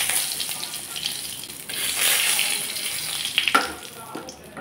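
Whole dried red chilli, white cumin seeds and two bay leaves crackle and sizzle in hot mustard oil, a steady bright frying hiss throughout with a few sharper pops near the end and no voices.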